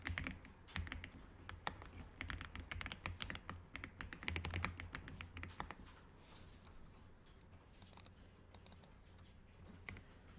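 Rapid, close clicking of a computer keyboard as someone types into an Excel spreadsheet during a basic computer class, quiet and continuous with no talking.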